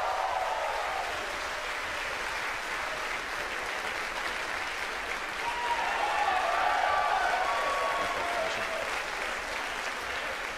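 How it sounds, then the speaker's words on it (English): Sustained applause and cheering fill SpaceX mission control after Falcon 9 stage separation, a dense steady roar of many clapping hands that swells slightly midway and continues without pause. "as you can hear by the applause and see on your screen, we've had a successful stage separation"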